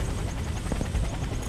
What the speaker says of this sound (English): Move out of the helicopter.